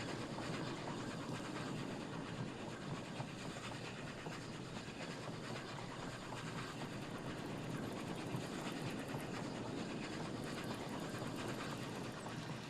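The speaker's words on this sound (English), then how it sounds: "I do like riding the trains in these games." Train rolling along its track in the video game Oddsparks, a steady dense rumble with faint rhythmic clatter that holds even throughout, no talk.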